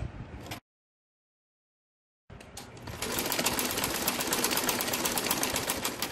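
A domestic sewing machine runs a second line of stitching over a salwar seam, a brief whir, then a gap of silence, then a steady, close, rapid stitching drone.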